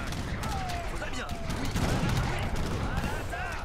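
Battle in Age of Empires III with falconet cannons and musket fire, a dense, continuous barrage of overlapping gunshots and booms filling the whole moment.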